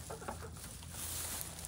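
Chickens cluck and scratch around a chicken brick set down in their greenhouse area, faint soft clucks with light pattering, moderately distant.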